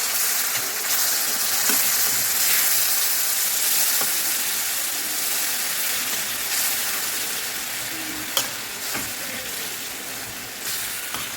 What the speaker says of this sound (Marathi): आता दही टाकल्यापासून आपण याला मस्त फ्राय करून घ्यायचे तीन ते चार मिनिट मिरची छान अशी फ्राय करून घ्यायची